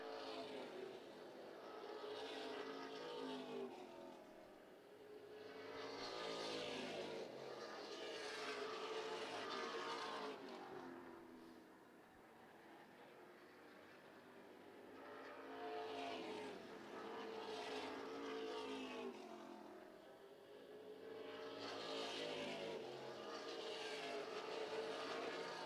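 Race cars circle a track in a competitive race, their engines swelling and fading in repeated waves as the pack passes, heard from a distance and fairly faint.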